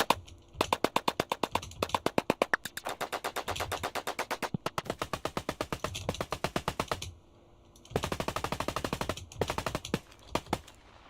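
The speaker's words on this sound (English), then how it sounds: "Like here, if we go to SFX, this is my M16." Synthesized M16 gunfire made for music production plays in rapid-fire bursts of sharp, evenly spaced shots, stopping and restarting several times with short gaps between volleys.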